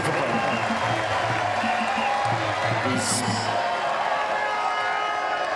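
A crowd at the Queen's tennis tournament applauds and cheers loudly throughout a Davis Cup doubles match, with the roar rising and staying strong while a commentator's voice is heard over it.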